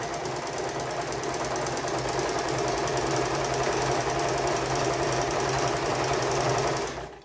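A sewing machine stitching a dress sleeve, a fast, even mechanical chatter running continuously at close range before stopping abruptly at the end.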